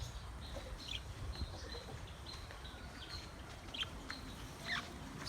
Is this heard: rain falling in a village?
no